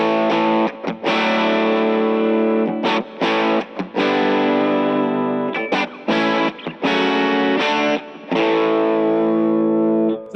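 Electric guitar through a JHS Clover preamp pedal plays a series of sustained, mildly overdriven chords and notes, with brief gaps between phrases, full and warm.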